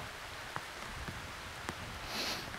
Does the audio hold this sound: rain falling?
yes